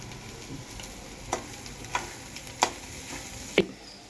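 Eggs sizzle steadily in a pan while chili powder is stirred in, a spatula scraping the pan in four distinct strokes over the constant, moderate frying hiss.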